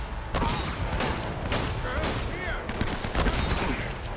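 Rapid, dense gunfire from the Uncharted video game, with repeated sharp shots and bursts overlapping loudly and continuously, along with some mechanical clanks.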